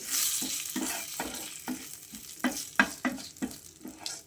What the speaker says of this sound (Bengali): আমি এলাচ গুঁড়োটা দিয়ে দিলাম এবং তেজপাতাটা দিয়ে দিলাম। আমি একটুখানি ভেজে নিচ্ছি